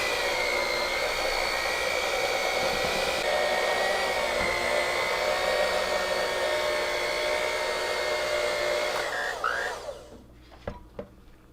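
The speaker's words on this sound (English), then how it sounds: "it's not hard to hold the mixer because, again, the hooks are doing all the work themselves" A hand mixer fitted with dough hooks kneads shokupan dough, giving a loud, steady electric whir. The whir holds for about nine seconds, then winds down and stops, followed by a few light knocks.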